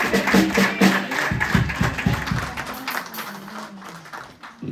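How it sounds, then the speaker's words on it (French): A congregation at a Haitian Christian church service bursts into loud clapping that rattles on for a few seconds and then thins out and fades. "gros applaudissements"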